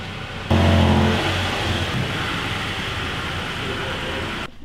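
A truck engine rumbling close by as it backs onto a two-post 10,000 lb vehicle lift, a sudden loud rev that settles into a steady throaty drone before cutting off, with a voice briefly present.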